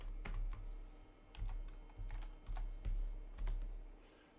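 Keys clack on a computer keyboard in short, close bursts as commands are typed on a RISC OS command line, faint and alone in a quiet room.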